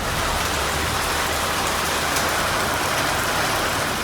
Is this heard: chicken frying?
no